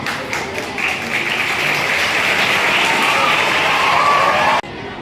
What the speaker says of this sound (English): big round of applause for the wonderful performance.